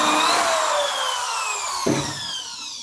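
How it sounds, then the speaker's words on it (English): A power drill whines steadily with a descending pitch as it bores a pocket hole into wood, loud and close, with a brief knock near the end as the bit slows. "Make sure the drill's going forward"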